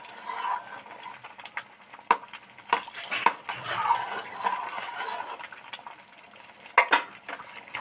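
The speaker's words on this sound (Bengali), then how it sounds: "এবার নেড়ে চেড়ে ঢাকা দিয়ে দেব।" Dal being stirred in a cooking pot, with a utensil scraping and clinking against the metal in scattered sharp taps over a low simmering background, moderately close and fairly quiet.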